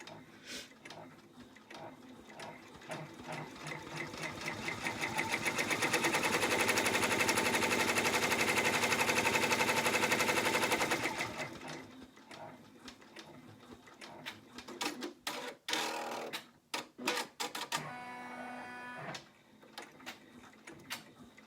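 Embroidery machine stitching the tack-down on an in-the-hoop zippered wallet, a close rapid mechanical ticking that builds to a steady whir for several seconds, then breaks into uneven stitches and clicks.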